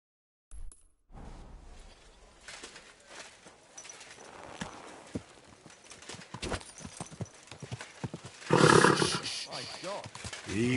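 Hooves clip-clop steadily as a horse walks, and a loud roar or whinny-like burst rises near the end. Speech is mixed in over the rhythmic hoofbeats.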